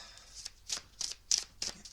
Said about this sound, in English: I'm just going to give it another shuffle